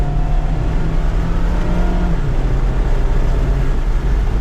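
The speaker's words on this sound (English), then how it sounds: "Pedal to the floor in second gear." A 2024 Mazda MX-5 Miata RF Grand Touring accelerates hard in second gear with the top down, its engine note climbing steadily under road and wind noise, then dropping briefly as revs shift, loud and continuous.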